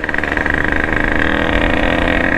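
A motorcycle engine runs close by with a loud, steady idle and slight throttle wobble, its rough mid-range rumble holding throughout with no voices.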